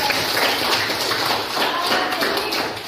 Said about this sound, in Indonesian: 9D luar biasa, tepuk tangan juga.